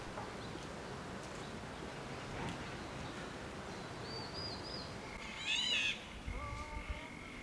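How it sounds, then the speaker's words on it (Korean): Small birds chirp and whistle a few short, thin calls along a forest footpath, moderately close, over a steady background hiss of wind and leaves; no one speaks. "새소리를 들으며"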